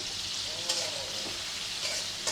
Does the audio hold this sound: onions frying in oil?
yes